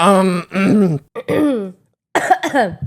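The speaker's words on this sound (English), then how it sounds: "The cough of realization." A few short, harsh throat-clearing coughs in quick succession, close and loud, separated by brief pauses.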